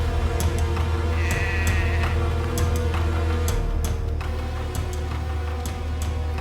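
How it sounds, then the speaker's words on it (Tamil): A goat bleating faintly in a short wavering call at a distance, set against a steady low rumble with scattered ticking clicks. "ஆடு கத்துற சவுண்ட் கேக்குது"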